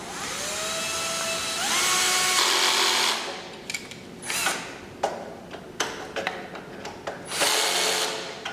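Screws being tightened on the main board of an SPF 12KW inverter with a power screwdriver, a whirring motor run at first followed by short clicks and ratcheting bursts of the tool, close up with no talking.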